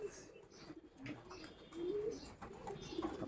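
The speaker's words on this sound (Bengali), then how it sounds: "পায়রা, সুন্দর পায়রা, ভালো পায়রা।" Pigeons coo softly at a pigeon farm, low warbling calls rising now and then through faint background chatter and rustle, fairly distant and quiet.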